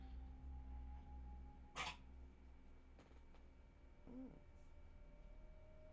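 A dog barks outdoors at night, a single sharp distant bark followed later by a softer short yelp, faint against a quiet background hum.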